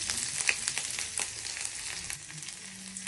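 Chopped ginger goes into hot oil already frying cardamom and cinnamon in a pan, giving a steady crackling sizzle with small pops throughout and no voices.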